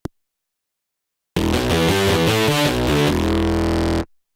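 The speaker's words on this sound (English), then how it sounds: "So I have this bass sound. And it already has distortion on it, right?" A synthesized bass with a heavy distortion effect plays after a second and a half of silence, a loud, gritty, buzzing phrase of shifting notes lasting about three seconds, then cut off.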